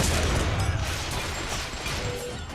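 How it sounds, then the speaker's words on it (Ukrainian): Bursts of rapid gunfire from the video game Bioshock Infinite crackle in quick succession, a dense, fairly quiet flurry of shots with no speech over it. "Звідки патрони летіли?"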